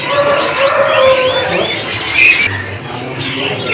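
Canaries, including AF canaries, sing thin, high chirping trills against a steady, loud hiss of background noise at a bird stall.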